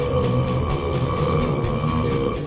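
A loud, sustained burp from a contestant at a burping championship, a continuous guttural rumble lasting a couple of seconds, close and alone with no talk over it.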